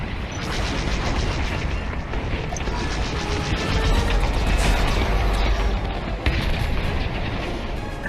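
A cruiser explodes in a VR space flight video game as a loud, continuous rumbling roar that fills the whole stretch and swells slightly partway through.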